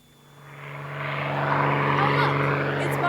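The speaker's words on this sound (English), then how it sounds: "Oh, look! It's Buck's aeroplane." A propeller aeroplane comes in to land, its droning engine swelling steadily from faint to loud as it approaches, a low humming buzz filling the air.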